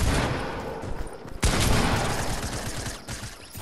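Fortnite gunfire during an Open League match: loud bursts of shots with a sharp crack near the middle, set against dense, noisy game sound.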